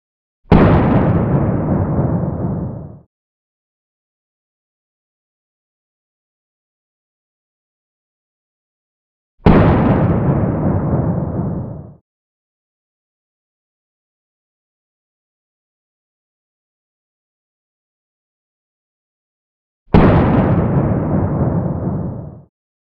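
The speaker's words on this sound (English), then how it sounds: "motion footage with this Kema 1911 blank firing replica" Three loud, booming shots from a Kema 1911 blank-firing replica pistol, each a sharp blast with a long decaying tail, spaced about ten seconds apart with silence between.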